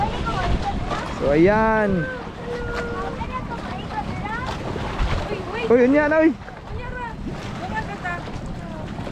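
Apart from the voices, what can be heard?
strong wind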